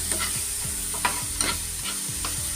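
Tomato, garlic and ginger fry in a pan with turmeric and Kashmiri red chili powder for a fish curry, a close, steady sizzle with scraping stirring strokes every half second or so.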